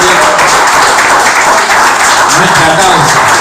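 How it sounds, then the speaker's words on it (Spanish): A congregation applauds loudly and continuously during a Torah portion service, a dense, heavy wash of clapping with voices and cheering mixed in. "denle un fuerte aplauso al Eterno"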